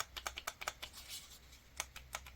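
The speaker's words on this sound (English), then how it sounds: "Clicky button for measurement." An HGL-205 infrared thermometer with an all-plastic body has its measurement button pressed. About a dozen quiet, crisp clicks come in an uneven series, close to the listener.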